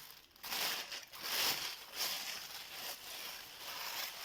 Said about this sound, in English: I'm going to get an empty paper bag, plastic bag actually,